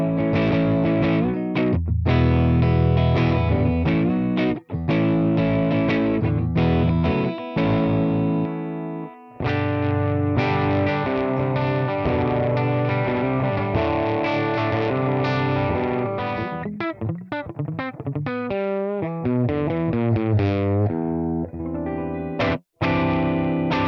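Electric guitar played through a ToneX capture of a warm-edged Gibson G40 amp without reverb, giving a lightly broken-up tone; sustained chords and single notes ring out with short pauses and a bending passage near the end.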